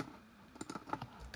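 Arrow keys on a computer keyboard are pressed several times in quick succession, producing faint, close clicking taps with no talk over them.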